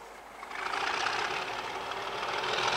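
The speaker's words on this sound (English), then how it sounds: "Now we have 37800 doing 507S from Yoker CS to Kilmarnock Ponyton Depot" Class 37 locomotive 37800 rolling slowly into Barassie Yard with a 507S working from Yoker CS to Kilmarnock, giving a steady broad rumble and hiss that swells after the first half second and holds loud and continuous.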